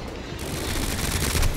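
Gunfire from the video game Resident Evil 2 Remake, a quick cluster of rapid shots and mechanical clatter over a dense rumbling game soundtrack, lasting under two seconds with no speech.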